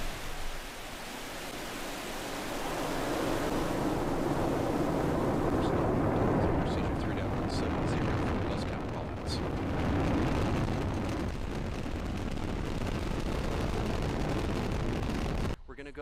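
A SpaceX Falcon 9 rocket lifting off, a huge continuous roaring rumble that swells and holds for many seconds before cutting off abruptly, with faint commentary beneath it.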